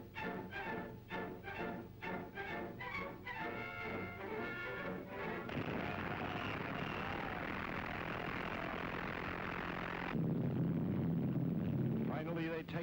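World War II B-24 bomber engines roaring during takeoff, a dense, loud, steady drone that swells and deepens partway through, with narration and music over the start.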